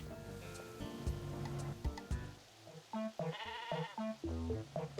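Sheep bleating in the farming game Discounty, a series of loud, wavering bleats in close succession over soft background music, each cry short and separated by brief gaps.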